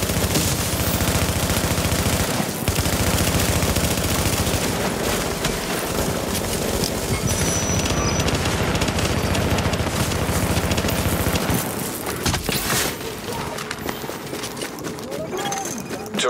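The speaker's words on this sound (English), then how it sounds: "Firing on a fortification at Alpha." Gunfire against a fortification in Tom Clancy's The Division rattles in dense, continuous automatic bursts, loud and close, layered under game voice announcements and other battle noise before easing near the end.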